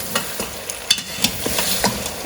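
A spoon scraping and stirring beef paya inside a large pressure cooker, with several distinct metallic clinks and scrapes spaced irregularly over a steady background sizzle.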